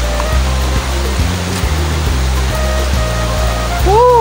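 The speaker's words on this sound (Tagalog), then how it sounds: "napakaingay na ng bagsak ng tubig" El Salvador Falls pours down as a loud, steady roar of rushing water, close and continuous, with faint talking and some tonal sounds partly buried beneath it.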